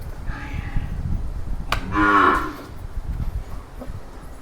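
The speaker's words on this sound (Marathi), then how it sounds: "हे जे एच एफ गाई आहे ना एच एफ गाई आहे ही पण द्यायला आहे" A Holstein Friesian cow, pregnant and offered for sale, lets out one loud, close moo in the middle of a cattle shed, with low rustling and shuffling farm noise before and after.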